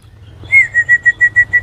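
Zebra doves (perkutut) calling at home, a close, loud series of short, evenly spaced whistled notes repeating in a steady rhythm over a low hum.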